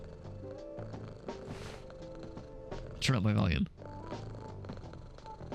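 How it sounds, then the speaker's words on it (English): A house cat purring close to the microphone, a low continuous rumble running under steady talking, with a brief louder noise around three seconds in. "There might be purring if I get real close."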